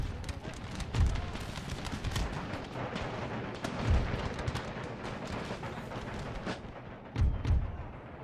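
Musket volleys and artillery booms from an Empire: Total War battle thud out every few seconds over a continuous crackle of distant gunfire and battlefield noise, with a voice talking through it.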